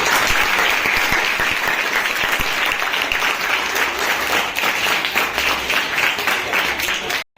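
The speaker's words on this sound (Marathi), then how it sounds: "आता एकदा जोरदार मॅडम तरी टाळ्या वाजवा" Tenth-standard students at a school self-governance day break into loud, dense applause that holds steadily for several seconds, then cuts off abruptly.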